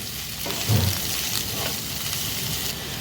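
Soybean chilli sautéing in a pan with salt, a steady close sizzle and crackle of frying with a brief louder stir-like scrape near the start.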